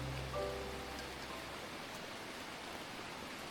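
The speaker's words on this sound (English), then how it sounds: "rain." Rain falls in the jungle around a village treehouse in Chiang Dao, a faint, even hiss of steady rainfall that stays constant throughout, with no voices.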